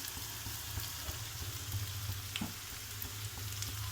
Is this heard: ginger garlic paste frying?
yes